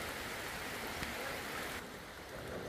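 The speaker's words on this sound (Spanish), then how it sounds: "con estos cántaros de lluvia que ya vienen" Heavy rain arrives over a house construction site, a dense, steady hiss of downpour on surfaces that fills the clip, easing slightly near the end, with no talk.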